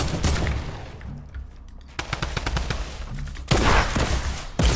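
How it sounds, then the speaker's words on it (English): Rapid, dense bursts of drum gun fire from the Fortnite video game rattle on almost continuously, with a few short pauses between sustained volleys of automatic shots. "Oh, here we go with the drum guns again, man."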